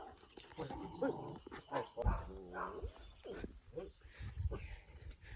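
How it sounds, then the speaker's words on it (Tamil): Several dogs bark in a forest tribal village, the short barks and yips mixed in among people talking close by. "அங்கே நாய் படையே இருக்கு."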